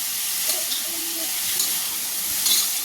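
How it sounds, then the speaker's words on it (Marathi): Amaranth greens being tempered in a hot pan give a steady, even sizzle and hiss with faint stirring, close and continuous for a few seconds. "आपण फक्त थोडीशी वाफवून घ्यायची तिला. फक्त जस्ट फोडणी द्यायची."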